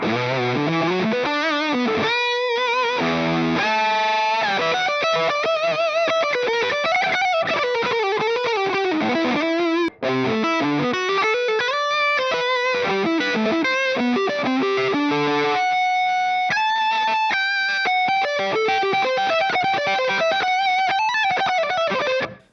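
Electric guitar through a Fractal Audio tube driver overdrive model, treble off and bass reduced, plays a continuous melodic lead line with gritty, saturated tone and bends, loud and close, with one brief dropout midway.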